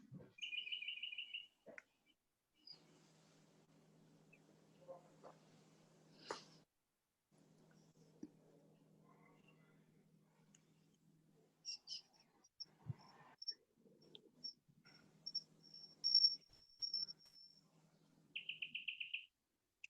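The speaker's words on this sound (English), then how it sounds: "she's got birds singing at her place" Birds chirp and sing in a garden, short high bursts of tweeting near and far, with a faint insect-like trill and a low hum between calls and no voices.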